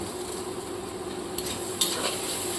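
A paste of ground poppy seed with white and black mustard seed fries in a pan, crackling and sizzling softly as a utensil stirs and scrapes, with a couple of sharper clinks partway through.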